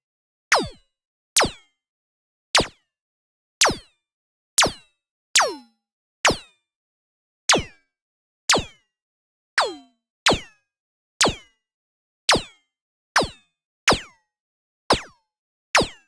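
Sharp FM synth ricochet zings run through a pitch shifter, about sixteen separate whizzing hits with falling pitch sweeps and brief decays. Each is spaced apart by a second or so of silence.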